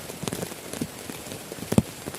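Light drizzle falls at night around a tent camp beside an old hut, with a soft, steady patter and a few slightly louder drops tapping nearby.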